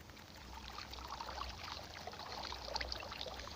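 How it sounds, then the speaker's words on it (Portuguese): Water flows and trickles steadily in a faction-server video game after a pump is switched on, a soft continuous splashing stream with a low hum beneath, no talk over it. "o barulhozinho da água"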